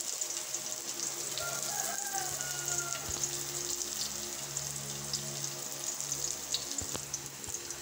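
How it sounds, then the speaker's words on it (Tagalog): Onion and garlic sizzle steadily in hot oil in a pan, a continuous, fairly close frying hiss with a few faint clicks and low background hum, no talking over it. "Lalagay ko na tong aking sibuyas at bawang dito sa aking mainit na mantika."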